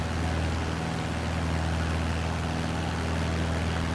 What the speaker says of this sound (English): a small engine prop plane flying around overhead